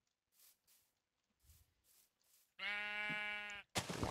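A sheep in Minecraft gives a loud, wavering bleat alone after some faint footsteps, close by and clear, followed by a brief rustling burst.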